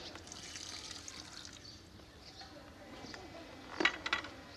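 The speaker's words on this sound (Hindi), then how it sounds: "थोड़ा सा पानी डाल लेंगे।" A small amount of water is poured into a pot of mutton curry as it cooks, giving a faint, soft trickle that ends in a few brief splashes.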